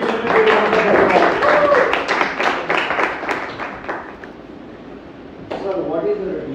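Audience clapping for a Toastmasters member stepping onto a stage, dense and fairly steady for several seconds before thinning out, with a voice coming in near the end.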